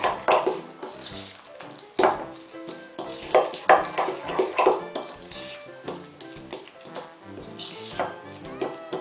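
Spoon stirring a meatball mixture with a spoonful of grated cheese mixed in, with scraping, clinking strokes against a bowl, close and steady, over some background music.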